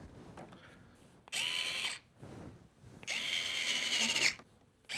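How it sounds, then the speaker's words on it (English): Power screwdriver tightening screws on a Bambu Lab A1 Mini 3D printer, two whirring bursts with a rising whine, the second longer, separated by quiet pauses and faint handling noise. "Tighten the 3 screws."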